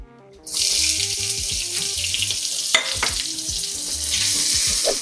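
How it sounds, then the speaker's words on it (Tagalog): Onion, garlic and ginger sizzle in a hot pan after beef has been seared, a steady close frying hiss with a few stirring scrapes and clinks, no talking. "mag-isa na tayo ng onion, garlic, and ginger. Sabay-sabay na yan."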